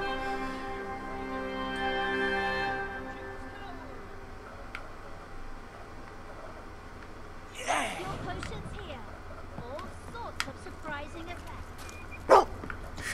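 Dog barking in the video game Fable 2, a few yelps and barks early on, then game ambience, music and scattered clicks, with a voice talking over parts.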